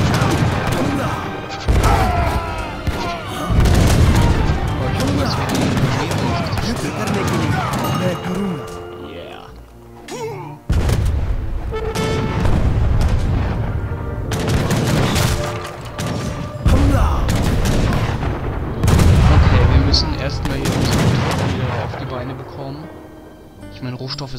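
Repeated heavy cannon fire and explosions from a stationary cannon in the real-time strategy game Age of Empires 3, dense booms and crashes in a loud battle din, with someone talking over it throughout.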